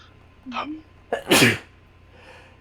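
A person sneezes loudly and close during a tabletop gaming session, with a short breathy intake before the sharp burst; a brief spoken word precedes it.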